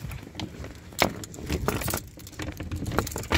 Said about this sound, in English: So many keys.